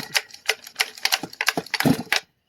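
Spring-loaded Easy Start pull starter on a Stihl MS250C chainsaw being wound, giving a quick run of dry ratcheting clicks and ticks, close and fairly loud, with no talking.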